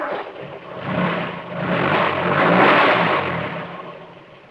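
An engine runs and the vehicle drives forward, a mid-pitched motor swelling and revving steadily over several seconds, fairly close and loud, with no talking.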